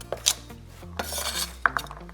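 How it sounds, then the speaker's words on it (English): A knife chopping peeled carrots on a board, a handful of sharp, uneven chops with scraping and clattering between, close and fairly loud with no talking. "I'm gonna go ahead and chop it, just not too small, not too big"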